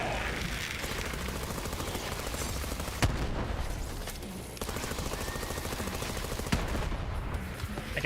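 Gunfire from a gun in the video game Borderlands 3 rattles in a rapid, sustained stream, with sharper louder shots cracking through at intervals.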